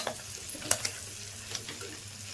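Spices, chilli powder, cumin powder and mutton masala are stirred through a dish in the pan, with a quiet sizzle under a few light scrapes and clinks of a spoon.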